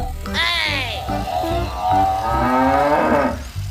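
A cow moos loudly and close by in one long, drawn-out call that rises and then falls.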